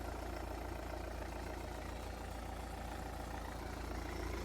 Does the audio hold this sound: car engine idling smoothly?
yes